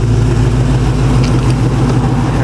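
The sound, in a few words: LS3 V8 engine of the Grande Juan car running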